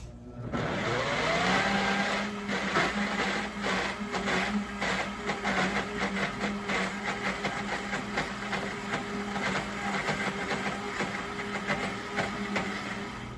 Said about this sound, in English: a Vitamix or another high power blender, it works out perfectly. So I'm gonna go ahead and turn this on